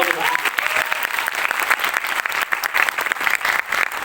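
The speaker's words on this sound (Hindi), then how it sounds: "जोरदार तालियां।" A crowd gives loud, sustained applause at an award ceremony during the valedictory function of an NSS seven-day camp. The dense, continuous clapping fills the room and stays close and energetic throughout.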